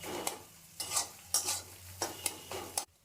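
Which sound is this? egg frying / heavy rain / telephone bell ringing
egg frying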